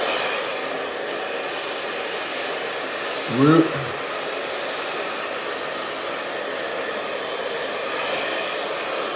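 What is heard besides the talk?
hair dryer blowing while styling hair with round brush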